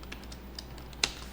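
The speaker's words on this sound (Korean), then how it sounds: "얘는 Alt를 누르시면 돼." Keys on a computer keyboard are tapped, producing a few faint soft clicks followed by one sharper, louder keystroke near the end, close in a quiet room.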